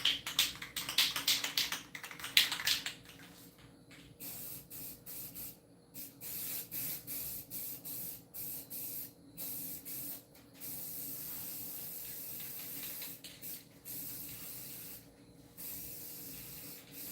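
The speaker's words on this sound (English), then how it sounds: "you can't just spray them with spray paint" Flat black spray paint hissing onto a plastic action figure, in a series of short close bursts of varying length separated by brief pauses, with some tapping early on and no speech.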